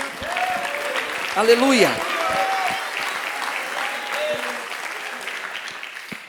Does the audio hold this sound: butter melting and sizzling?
no